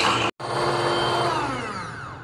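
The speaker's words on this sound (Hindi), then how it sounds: "तो ये मैंने 7 मिनट कंटिन्यूसली बीट किया है" Electric hand mixer beating eggs and sugar into brownie batter, a steady loud whirring drone that cuts out briefly near the start and then runs continuously with a slowly falling pitch.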